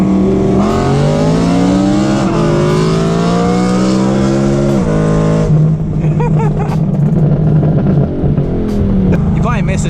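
A BMW M3 and an Audi R8 with V8 engines and loud exhausts race hard, with a sustained roaring drone and rising revs broken by gear shifts, then a rougher, choppier engine note with brief voices underneath.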